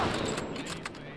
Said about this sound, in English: Excellent shot, Jamal.